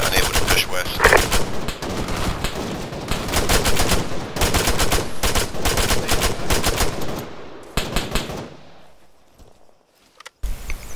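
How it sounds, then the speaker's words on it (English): Sustained automatic gunfire in ArmA 3 during a co-op hostage rescue in Takistan, loud rapid bursts of suppressive fire pounding for about eight seconds before cutting off into near silence. "Contacts from compounds down this road. Deploying suppressive fire."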